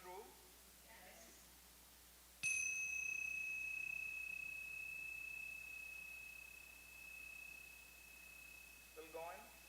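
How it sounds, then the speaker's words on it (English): Tingsha bells, small Buddhist prayer cymbals, are struck once and give a clear, bright ring that holds for several seconds and slowly fades. Brief speech is heard before the strike and again near the end. "these are my beautiful Tingsha bells"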